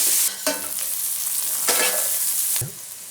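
Onions cooking in a pan sizzle steadily and loudly, with a few distinct scrapes and clacks of a spoon stirring them through the hiss; no one speaks.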